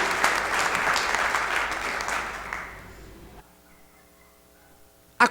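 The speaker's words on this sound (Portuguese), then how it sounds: "Será que você pode aplaudi-lo neste momento?" A church congregation claps together in sustained, dense applause for about three seconds, then it fades quickly into a quiet room hum.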